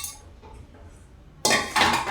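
Chopped onion, grated ginger, diced tomato and half a capsicum tipped into a bowl, a sudden close clatter and clink of food and utensil against the dish after a quiet start, with a second louder rattle shortly after.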